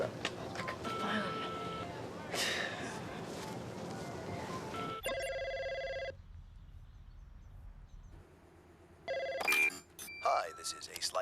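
A telephone rings in short, bright electronic bursts, alone at first, then with a gap and another burst as the ringing returns near the end, after a stretch of loud voices and sound effects.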